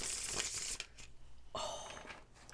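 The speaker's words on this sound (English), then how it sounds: "I love the way that this cardstock shuffles" Tarot cards with Superior Smooth cardstock being shuffled by hand, giving close, crisp bursts of papery riffling and crinkling in two quick passes with a short pause between.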